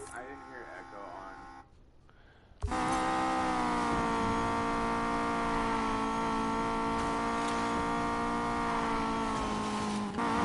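Car engine in the Need for Speed Payback racing game, cutting in suddenly and then holding a loud, sustained high-revving whine, with someone talking over the game sound.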